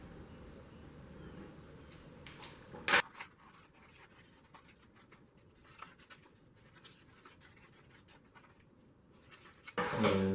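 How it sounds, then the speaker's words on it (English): A pencil scratches roughly in a circle on scrap paper, close and quiet. Brief louder rustles sound near the start and end over a soft background hiss. "I'll real roughly trace out a circle here."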